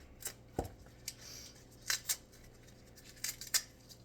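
Leafy greens torn apart by hand while preparing iguana food, a run of short crisp ripping bursts with pauses between them, close and fairly quiet with no talking.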